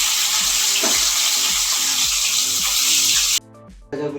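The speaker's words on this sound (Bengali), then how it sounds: "এবার আমি মাছগুলো এক এক করে ভেজে নিই।" Hilsa fish pieces fry in mustard oil, giving a loud, continuous sizzling hiss that breaks off suddenly for a moment and then resumes faintly.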